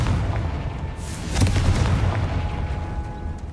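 A Confringo blasting spell explodes in a video game with a booming blast midway through, surrounded by rumbling game ambience and a sharp burst at the peak.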